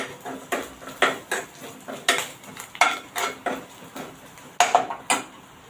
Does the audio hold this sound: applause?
no